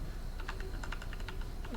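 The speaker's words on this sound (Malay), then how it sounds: "Dan kita type ni kita tak tengok keyboard tau." Continuous typing on a Tecware Phantom computer keyboard, a steady run of close, fairly quick key clicks at moderate volume with faint background noise and no talking.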